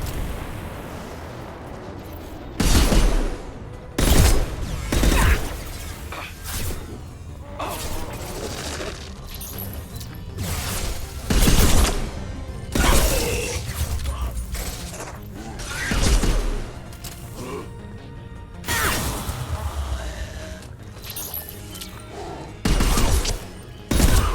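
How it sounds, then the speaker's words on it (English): Gunfire in Mass Effect 2 lands as heavy, booming shots spaced a few seconds apart, loud and close, with mechanical clanks and a rumbling background between the blasts. "Firing a high-impact shot"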